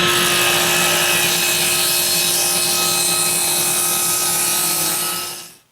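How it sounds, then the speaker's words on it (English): A power saw rips steadily through a 2x4 wood board, trimming off its rounded edge, with a loud continuous whining cut that winds down as the blade finishes. "I'm going to go ahead and trim one edge off of each one of these 2x4s."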